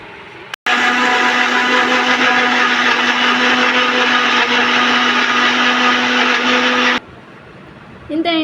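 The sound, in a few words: mixer grinder blending tomato green chilli chutney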